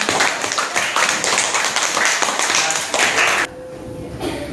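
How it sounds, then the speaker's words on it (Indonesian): Classroom audience clapping for everyone at the close of a teaching practice session, a dense burst of hand claps lasting several seconds before cutting off abruptly, followed by quiet room tone. "Oke, tepuk tangan buat semuanya."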